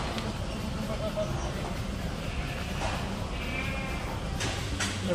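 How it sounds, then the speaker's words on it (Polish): Goats call in a French goat barn during kidding season, a doe giving birth nearby while several animals bleat over a constant hum of barn noise. "Tutaj widzicie, koza rodzi."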